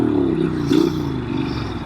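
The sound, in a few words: 2014 Norton Commando 961 SF motorcycle engine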